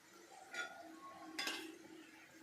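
Fried vegetable Manchurian balls being moved onto a plate, two distinct clinks of a metal spoon against the dish with light scraping between, close and fairly quiet.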